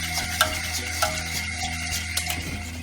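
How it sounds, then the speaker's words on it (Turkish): Vanilla being stirred into a thickening magnolia pudding mixture in a pot, a spoon scraping with soft, steady swishes and a few sharper clicks against the metal, close and alone. "Şimdi karışımın içine bir paket vanilyayı ekliyorum. Ve karıştırmaya devam ediyorum."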